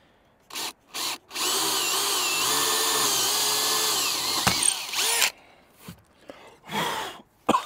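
A power drill whines steadily for several seconds as it bores through a fibreglass boat deck into the wood beneath, preceded and followed by short bursts and a few breaths.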